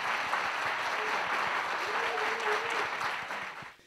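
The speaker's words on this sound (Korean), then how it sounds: "박수 부탁드립니다." An audience claps steadily and densely at the opening ceremony of a national youth mock trial competition final, then the applause fades out at the close.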